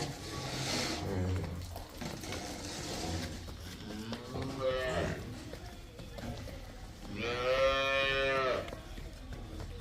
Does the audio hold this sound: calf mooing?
yes